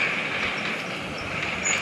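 Train sound from a video game, a steady rumbling rush of rolling carriages with faint high squeal, continuous and fairly loud for under two seconds with no speech.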